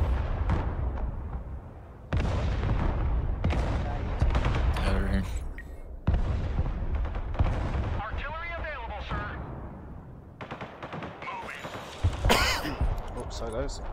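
Artillery fires in the Broken Arrow war video game, heard as several heavy booming blasts with rumbling tails that recur every few seconds, mixed with other battle effects.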